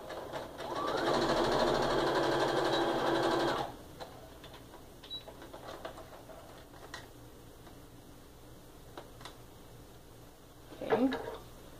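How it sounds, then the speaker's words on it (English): A sewing machine stitches a quilt seam in a loud, steady burst of about three seconds, then falls quiet, leaving faint ticks and a brief sound near the end. "I'm going to sew right along this line"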